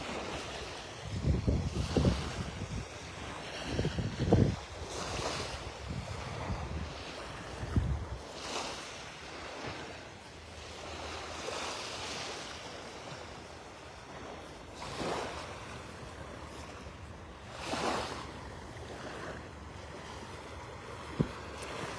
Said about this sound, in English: That beautiful mile-long stretch of beach at Delnor-Wiggins.